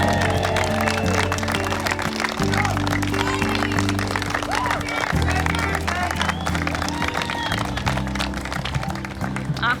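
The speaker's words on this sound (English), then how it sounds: "all your guests give you a round of applause" Wedding guests applaud a newly married couple as the groom kisses his bride, a dense, steady wash of clapping mixed with crowd noise and some voices, with music or tones running underneath throughout.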